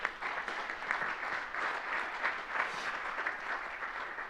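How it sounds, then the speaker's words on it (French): Steady applause from an audience, a dense wash of many hands clapping at moderate distance, sustained throughout without voices. "On peut applaudir Fatoumata."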